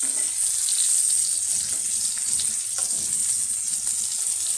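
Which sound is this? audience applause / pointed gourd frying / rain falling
pointed gourd frying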